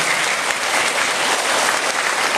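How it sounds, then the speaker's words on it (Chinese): An audience at a school competition applauds as a judge is introduced, a thick, even wash of many hands clapping at once, loud and sustained with no gaps. "来掌声欢迎一下"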